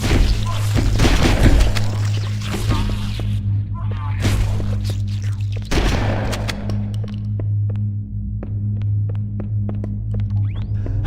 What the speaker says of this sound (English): When it reaches 0, the engines will detonate.